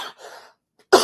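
One sharp, close cough bursts out suddenly at the end, after a few soft breathy throat noises.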